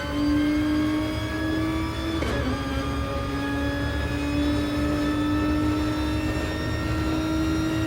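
Grand touring race cars in a Gr3 championship race at Bathurst in a racing video game, engines droning steadily at high revs down the main straight while slipstreaming, with a brief transient near two seconds and no talk.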